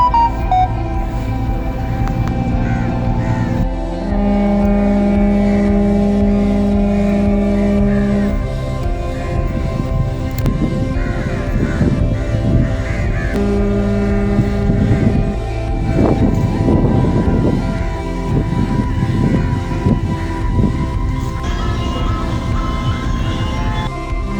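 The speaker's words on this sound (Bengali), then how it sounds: "ঠিক এই সময় একটা বড় জাহাজ" A large ship passes on a river during a riverside outing from Kolkata to Falta, its steady low engine drone and horn-like tones sounding loud and close, with wind and water noise around it.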